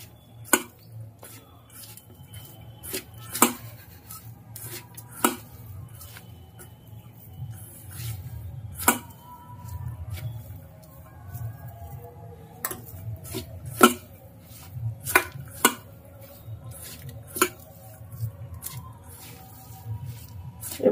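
Sliced potatoes for chatpata aloo piyaji are worked gently by hand with salt, giving sparse, irregular soft clicks and squishes close up over a steady low background hum, with no talking.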